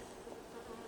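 Honey bees buzz continuously inside a nuc hive's brood chamber, a steady dense hum close by with no talking.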